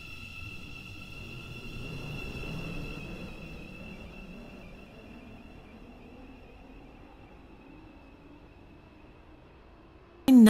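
A five-coach train runs non-stop through a platform at a city hospital station in a Roblox railway game, giving a steady rolling rumble with a sustained high whine that fades gradually, then a short loud burst at the very end.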